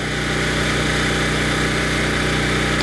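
Kipor IG1000P inverter generator running steadily, a loud, constant engine drone with a mechanical hum and no change in pitch or level, no voices.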